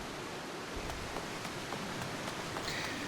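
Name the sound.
rain in the video game Final Fantasy XIV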